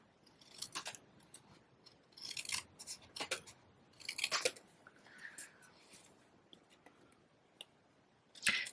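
Scissors trim glued cardstock flush along its edges in short bursts of crisp snipping and paper rasping, close and quiet, separated by brief pauses with no talk.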